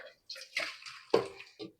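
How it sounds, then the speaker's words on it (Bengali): Beef and potato curry with thin gravy poured from one pot into another: a short, close run of liquid sloshing and splashing bursts, with a voice faintly mixed in. "আমি এখন হাঁড়িতে ঢেলে দিচ্ছি।"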